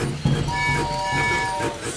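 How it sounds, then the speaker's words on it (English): Cartoon steam train in a Peppa Pig episode, puffing rhythmically with soft chuffs and a faint tonal whistle, heard under light background activity. "Except for the train."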